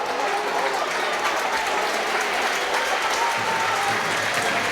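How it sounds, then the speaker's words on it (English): A large football crowd at a Tranmere Rovers versus Hull City cup match keeps up a constant, dense roar of shouts and noise as it appeals for handball, with no break throughout. "they're asking hugely in the crowd for a handball"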